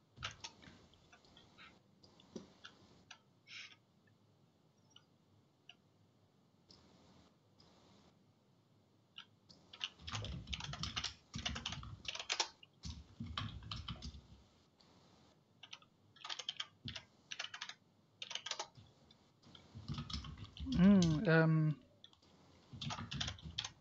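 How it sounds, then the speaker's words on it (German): Computer keyboard typed on hard during a Skribbl.io game, sparse light key clicks at first, then loud dense bursts of hammered keystrokes in uneven clusters with short pauses between them. "Jetzt habe ich auf die Tasten gehauen."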